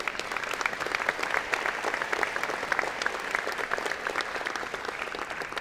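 Convocation audience at an engineering and computer science ceremony applauds steadily, a dense wash of many hands clapping at even loudness throughout with no voices on top.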